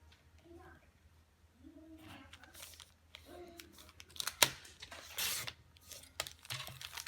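Excess bulk of a paper bag being cut away for a handmade mini album, heard as a couple of sharp, crisp cutting and rustling bursts near the end, with quiet talking earlier.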